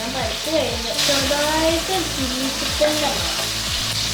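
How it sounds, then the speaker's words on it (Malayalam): Chicken frying in a pan for butter chicken, a steady close sizzle throughout, overlaid by tonal, voice-like sounds. "ചിക്കൻ ഫ്രൈ ആവണം"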